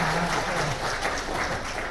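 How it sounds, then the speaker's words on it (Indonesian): A crowd at a corporate gathering bursts into sustained applause, a dense roar of many clapping hands with faint voices mixed in, steady and fairly loud throughout. "Tepuk tangan untuk kita semua."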